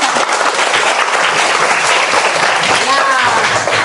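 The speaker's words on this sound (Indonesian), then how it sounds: "Tepuk tangan untuk Putri Samawa" A classroom crowd of schoolchildren applauds a speaker with dense, loud clapping that runs steadily throughout, with voices mixed in.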